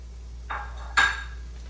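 A whole large shallot dropped into a pan of oil and rendered fat gives two short clattering hits, the second louder and ringing briefly, over a steady low hum.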